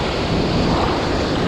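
Dense, roaring rush of river water below a waterfall in an Oregon gorge, loud and close, with an unbroken wash of spray and no talk.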